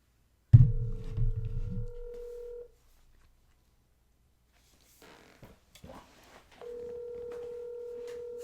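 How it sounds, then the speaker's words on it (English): A phone places a call: a loud burst of noise, then a steady tone that stops, a few faint clicks and rustles, and the steady tone comes back, with no voices. "phone call initiated."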